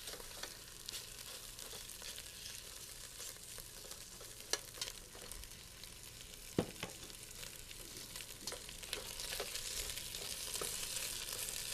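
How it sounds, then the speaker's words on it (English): Meatballs sizzle steadily as they brown in a pan for homemade pasta sauce, a dense crackling hiss broken by sharper pops and the clack of pieces being rolled around. "So we'll roll those meatballs around a little bit."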